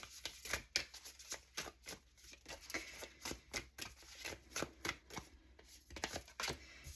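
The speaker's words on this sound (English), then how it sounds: "I'm just tarot shuffling them now because it can be quite loud on the table." Tarot cards shuffled on a table in quick, rhythmic bursts of riffling and slapping, close up and fairly loud, with no talking.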